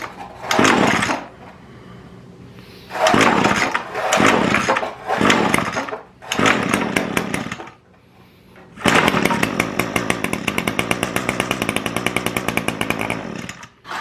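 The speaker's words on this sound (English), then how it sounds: "So we know the motor runs." Echo SRM225 two-stroke string trimmer engine revving in several short bursts, then holding a loud, buzzing high-revving run with a rapid regular pulse, close and with no voices over it.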